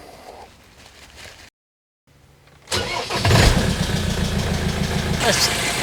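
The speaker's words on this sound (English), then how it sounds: "So now give the engine a bit of a turnover" After a brief silence, a car engine cranks and catches, then settles into a steady, loud idle with a rhythmic rumble.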